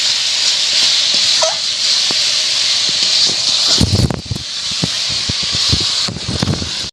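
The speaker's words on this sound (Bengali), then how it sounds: "এর মধ্যে দিয়ে দেব মটরশুঁটি। মশলাটাকে খুব ভালো করে আমি কষিয়ে নেব।" Masala spices with green peas fry in hot oil for a meat ghugni, giving a steady, loud hiss and sizzle with sharper crackles and spits bursting through toward the end.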